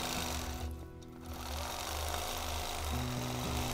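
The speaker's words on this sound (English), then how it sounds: "Start a new line of stitching." A domestic sewing machine runs steadily, stitching a crosshatch quilting line with ruler work. It gives a continuous close mechanical hum that dips briefly and then resumes, with no talk over it.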